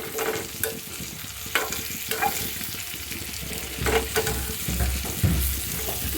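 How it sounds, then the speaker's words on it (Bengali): Fish frying in hot oil as the pieces are flipped, a steady close sizzle broken by several sharp scraping and clinking turns of the utensil, with no talking. "আমি তো এখন মাছগুলো উল্টিয়ে নিচ্ছি, এক পিঠ দেখেন সুন্দর করে যে ভাজা হয়েছে"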